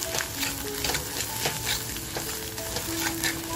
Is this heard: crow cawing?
no